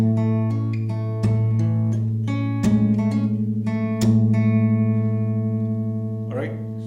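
The opening of a song played on guitar: a series of plucked notes ringing over sustained lower strings, close and clear, with no one talking.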